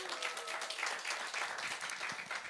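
A church congregation at a harvest thanksgiving Sunday worship service claps together in steady, dense applause that fills the room evenly from start to finish, with no voices standing out.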